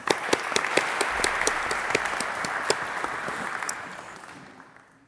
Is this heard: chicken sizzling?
no